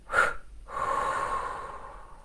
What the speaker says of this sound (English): let's just take a breath in and breathe it out